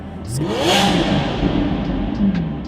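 A Lamborghini Aventador's 6.5-liter naturally aspirated V12 revs hard and loud, rising in pitch then holding a strong howl, close by with no talk.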